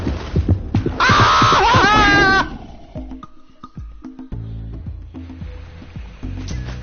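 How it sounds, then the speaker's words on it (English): In the video game Jak and Daxter, a heartbeat warning plays after falling into water, heard as steady low thumps beneath a loud, shrill game cry and other in-game sounds. "And that, the heartbeat, was the scariest thing to us if we ever fell in the water."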